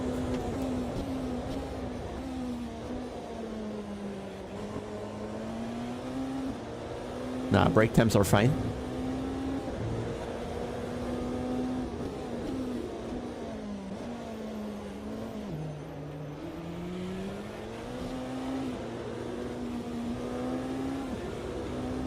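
A race car engine in the sim racing game Automobilista 2 drones steadily at a high, even pitch throughout, with a brief burst of sharp noise midway, while someone talks over it.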